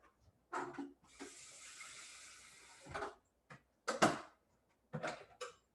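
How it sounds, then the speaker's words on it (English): Water poured into vegan tamale masa for queso con rajas tamales, heard as a few separate close bursts of pouring and splashing, one longer steady stream among them, with no talking. "let me go ahead and add a little bit more of this water"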